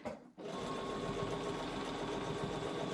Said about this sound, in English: I'm just going to continue sewing where the edge of my foot is along that tape.